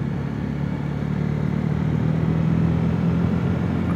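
A motorcycle rides along Dog Trap Rd on the Central Coast, its engine a steady, continuous drone with road noise that holds at an even, fairly loud level throughout.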